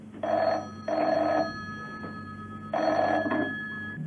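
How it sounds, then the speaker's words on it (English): An old-style telephone bell rings in two double bursts separated by a pause, clear and close, as a sound effect in a radio drama, with no voices. "John Steed's telephone rang."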